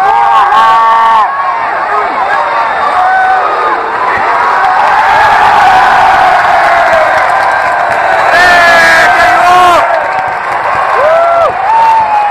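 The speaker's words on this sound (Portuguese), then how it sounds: "Caraca, a torcida tá empolvorosa aqui." A packed arena crowd at a judo match cheers loudly and without a break, with whoops and shouts rising over a dense roar that swells and surges throughout.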